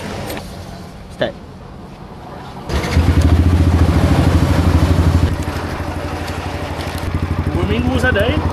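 A Yamaha MT-15 motorcycle, fitted with a new battery, cranks and fires up, then settles into a steady, close idle. Voices talk nearby before and during the start.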